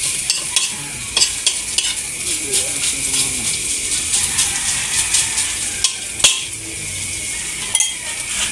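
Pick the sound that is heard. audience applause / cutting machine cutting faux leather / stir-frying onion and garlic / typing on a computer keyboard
stir-frying onion and garlic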